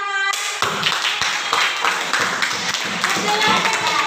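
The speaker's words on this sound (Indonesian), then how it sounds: "Tepuk tangan." Clapping in a classroom session: a loud, close burst of many hands that starts abruptly after a brief tone and continues steadily and briskly for several seconds, with faint voices underneath.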